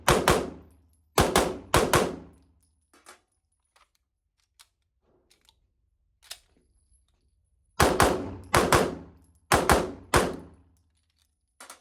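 An Atlas Athena pistol fired in loud, close shots: a quick volley of three near the start, a few faint clicks and handling noises in between, then another volley of four shots near the end.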